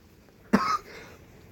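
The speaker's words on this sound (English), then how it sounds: "sorry for the cough there" A single short cough from a person, fairly close and distinct, standing out briefly against a quiet background with no speech around it.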